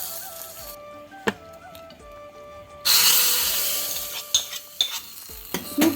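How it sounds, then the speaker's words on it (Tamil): Mustard seeds, cumin, curry leaves and dried chillies tempered in hot coconut oil for Kerala paruppu dal curry: a sudden loud sizzle and hiss that slowly fades, with seeds popping and a few spoon clinks, close up. "தேங்காய் எண்ணெய் விட்டுண்டாச்சு. கடுகு போட்டுக்கலாம். ஜீரகம், கருவேப்பிலை, வரமிளகா இதை இவன் தலையில் போட்டிடலாம்."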